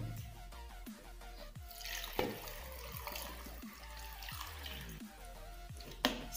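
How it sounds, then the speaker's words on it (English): Water poured into a blender, splashing and gurgling steadily, with scattered clinks and knocks and a low hum beneath; no voices. "Add water to enable it to blend properly."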